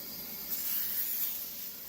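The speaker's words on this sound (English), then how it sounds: "use some coconut spray to grease up the pan." A brief, steady hiss of coconut cooking spray greasing a pan, close and fairly soft, lasting about a second.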